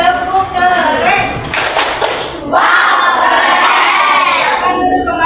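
A classroom of students shouting and cheering a rhythmic clap chant, loud and close, with voices and clapping blending into a boisterous group burst.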